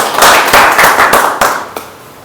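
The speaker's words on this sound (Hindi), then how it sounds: "मैं चाहूंगा कि एक बार जोरदार तालियां अपने लिए हो जाए" Seminar attendees clap hard in a burst of applause, with sharp overlapping claps that are loud and close before they taper off near the end.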